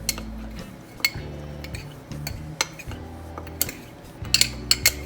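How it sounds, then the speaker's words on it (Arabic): A spoon mixes dried coriander, black pepper and salt in a bowl, giving close, irregular clinks and scrapes against the dish, with a few sharper taps near the end and no voices. "بدنا نخلط هلا البهارات هاي كلها مع بعض."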